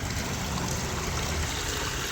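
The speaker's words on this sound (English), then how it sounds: "now it's listing to the other side, so the water is sloshing." Water sloshing and trickling inside a flooded, listing RC submarine, a steady close gurgling wash with no voices.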